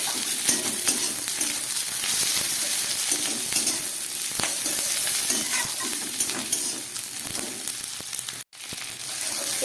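Vegetables with green chili fry in a pan for a side curry served with roti, a steady close sizzle with scattered stirring clicks and scrapes throughout and a brief dropout near the end.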